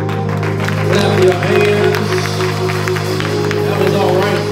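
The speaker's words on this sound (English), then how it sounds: "come on and clap your hands" A church congregation claps along steadily during worship, with voices and murmuring mixed in over a sustained hum of the room.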